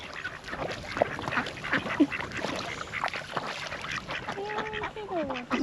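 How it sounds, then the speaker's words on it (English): Ducks quacking while being herded into water in Freycinet National Park, with a dense chorus of near and overlapping quacks and a few honk-like calls throughout. "We herded the ducks into the water."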